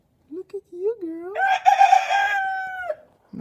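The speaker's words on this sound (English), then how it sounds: "there is a rooster" Close by, a rooster gives one loud, full crow that rises and then holds a long, drawn-out note. Softer clucks come just before it and a short sound follows at the end.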